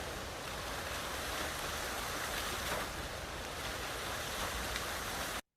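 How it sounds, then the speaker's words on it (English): Water recorded for sound effects gives a continuous broad rushing wash, like surf mixed with wind. It holds at an even level before stopping abruptly. "Okay, here's some water."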